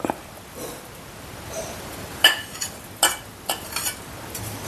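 A spoon stirs a simmering ginger curry with grated jaggery just added, giving a few soft scrapes and light clinks against the pot over a quiet background.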